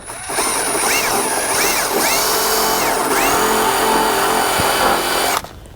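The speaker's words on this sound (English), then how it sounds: "Just take a wire brush, just wire brush it real quick." A wire brush, likely power-driven, scrubs rust off the body of an old winter car, a loud continuous whirring grind that runs several seconds and then cuts off abruptly.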